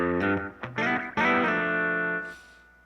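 Electric guitar through a Zendrive overdrive pedal with the guitar volume rolled down: a few picked notes and then a sustained, slightly gritty chord ringing out alone and clear before fading.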